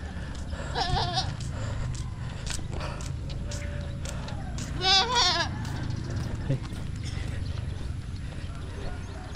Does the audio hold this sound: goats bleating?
yes